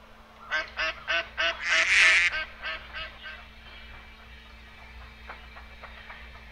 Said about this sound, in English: And that, my friends, was a duck.